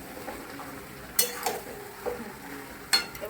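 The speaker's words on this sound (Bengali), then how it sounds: "এবার আমি ভেজে রাখা আলুটা দিয়ে দেবো। দিয়ে একটু নাড়িয়ে নেবো।" Fried potatoes being stirred into chicken in a pan, a few scattered spoon scrapes and light clinks against the metal, close and fairly quiet, no voices.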